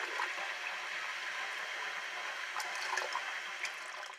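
Liquid is poured into a container sitting on a scale during soap making, giving a soft, steady trickling splash that runs without pause and stays faint throughout.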